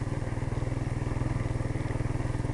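Small mini bike engine on a test ride, a close, rapid, evenly pulsing putter that holds a steady rhythm with a rough clattery edge.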